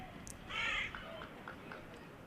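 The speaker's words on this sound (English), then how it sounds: "Probably heard the seagull there." A seagull calls once in a short, bright squawk at a cricket ground during a Sussex versus Northants County Championship match, over a steady low background hum.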